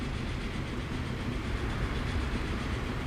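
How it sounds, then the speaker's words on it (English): Log train passing in the Transport Fever 2 simulation game, a steady loud rumble and rolling rail noise filling the whole moment without pause. "There goes another log train."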